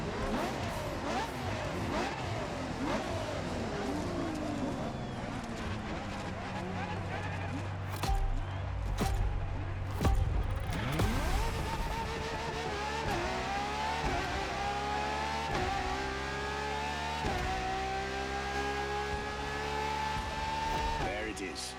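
LaFerrari in The Crew Motorfest racing game, its engine revving up and down through repeated gear shifts with rising and falling whines, brief tire noise, and a voice talking over it.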